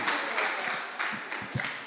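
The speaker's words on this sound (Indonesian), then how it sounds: "Tepuk tangan untuk Maher." Steady applause from a church youth service congregation, a dense wash of clapping that holds at an even level throughout, with a few heavier thumps near the end.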